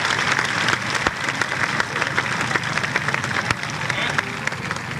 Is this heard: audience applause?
yes